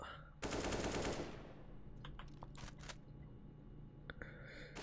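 AK rifle fire in a professional CS:GO match between Vitality and Astralis: one dense burst of shots near the start, then fainter sharp clicks and single cracks under low game ambience.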